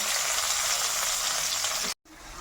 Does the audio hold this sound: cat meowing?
no